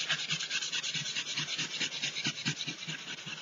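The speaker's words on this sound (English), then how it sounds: "I'm just going to sand some of that down and see how that turns out" Fine 600-grit sandpaper rubbed over a paper flyer, a soft, rapid rhythmic rasping of quick back-and-forth strokes at close range with no talking.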